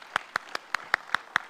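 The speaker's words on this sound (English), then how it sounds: "a round of applause" Scattered claps ring out from a forum audience, about seven distinct, evenly spaced hand claps in quick succession, close and fairly crisp.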